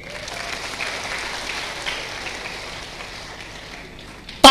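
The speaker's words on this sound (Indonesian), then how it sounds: "Tepuk tangan dulu." A church congregation in Ende, Indonesia, gives soft, diffuse applause that sounds somewhat like rain. It stays low and steady, then an abrupt loud burst of noise cuts in at the very end.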